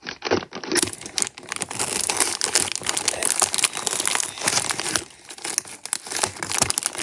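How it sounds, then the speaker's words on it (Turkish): A plastic-wrapped cargo parcel is torn open from the back, giving close, loud crinkling and rustling of plastic in irregular bursts, with brief pauses between pulls. "o yüzden yine böyle tersten açacağız. Hep tersten açıyoruz kargoyu."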